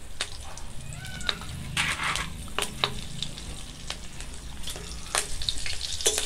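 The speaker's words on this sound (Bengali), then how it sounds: "এই রেসিপির জন্য আমরা ফোড়ন হিসাবে দুটো তেজপাতা দিয়ে দিচ্ছি, 4টে চেরা কাঁচা লঙ্কা" Bay leaves and slit green chillies sizzle in hot oil as a whole-spice tempering for a Bengali bhola fish curry, a steady close crackle broken by sharp spatters and scrapes, with no talk.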